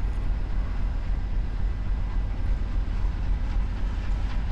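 Steady, loud rumbling roar of an Amtrak Urban Liner train running in a rail simulation game, continuous and unbroken with no voices.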